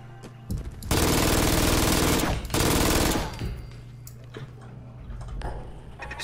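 Turret machine-gun fire in Fallout 4: a loud, dense, rapid burst lasting about two seconds with a brief gap, then fading into quieter game ambience, with no talking.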